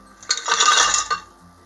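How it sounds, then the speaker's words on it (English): A cup of ice dropped into a blender, a short bright clattering rush of cubes lasting under a second, close and fairly loud, then quiet. "Starts off with 1 cup of ice in the blender"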